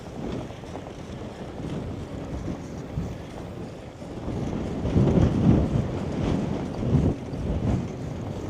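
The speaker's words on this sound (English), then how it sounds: "Not cooperative this wind." Wind buffets a microphone outdoors during a bike tour in Latvia, a steady rushing roar that swells into stronger gusts midway, with no talking.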